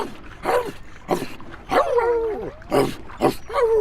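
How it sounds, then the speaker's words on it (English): A dog splashes in water after a big splash and tries to bark, giving a few short, strained yelps and whimpers with pitch wavering between them, close and fairly loud, over a faint background wash. "they heard what sounded like a dog splashing around in the water and trying to bark"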